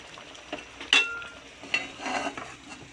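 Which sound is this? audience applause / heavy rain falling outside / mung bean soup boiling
mung bean soup boiling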